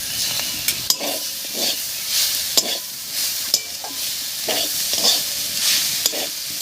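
Banana flower cooking in a pan with ginger and cumin paste, repeated rhythmic scraping stirs and clinks of a spoon over a steady close sizzle, no talking.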